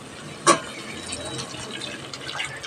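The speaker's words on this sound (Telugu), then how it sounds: "ఇప్పుడైతే కొన్ని వాటర్ వేసుకుందాం." Water is poured into a cooking pot of tomato pepper rasam seasoned with curry leaves, a short splashing gush followed by quiet kitchen ambience.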